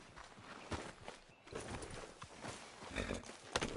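Horse hooves clip-clopping in Red Dead Redemption 2, a steady walking rhythm of soft, fairly close hoof beats over faint ambient noise, with no one talking.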